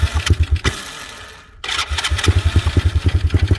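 Tao Tao T Force ATV engine cranking with rapid starter pulses, a brief pause, then catching and running with a steady pulsing idle, close and loud.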